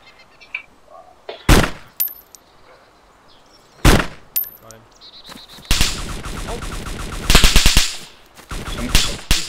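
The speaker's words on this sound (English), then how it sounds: "Someone's shooting me." Gunfire in a zombie survival video game, loud isolated shots followed by rapid automatic bursts, with quieter mechanical clicks between them.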